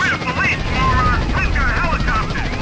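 A helicopter in GTA San Andreas, its rotor whir steady and near across the whole stretch, with sweeping whistling tones above it and a voice talking over the top.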